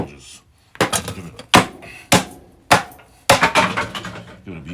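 An old wooden chair with a missing spindle is beaten apart: a run of sharp, loud cracking and knocking blows with splintering rattles between them, close by and irregular in rhythm.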